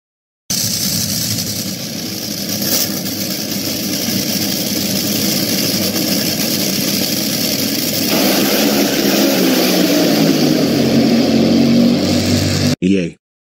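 Steady loud engine drone at Go City Speedway drag racing, a continuous close roar that shifts lower partway through, then cuts off abruptly near the end.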